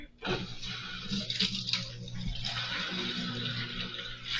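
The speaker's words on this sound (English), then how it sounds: "it's going to drain all this water that's in here through this hose that's on this side into this bucket" A washing machine drains its wash water through a side hose into a bucket, a steady close rushing and splashing stream running throughout after a brief start, with a low hum beneath.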